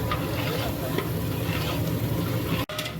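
Finely chopped tomatoes fry and get stirred into a huge pot of Nellore mutton biryani masala, a continuous dense sizzle with rhythmic scraping stirs, close and loud, broken by a brief dropout near the end.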